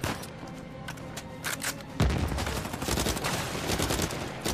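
Dense gunfire in the video game Uncharted 4, rapid overlapping shots and automatic bursts with a heavy impact partway through, loud and continuous.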